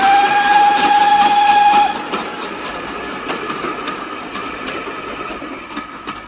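A steam train pulls away on a railway, opening with a sustained whistle blast, then a steady rumble and clatter of wheels that slowly fades, loud and close with no talking.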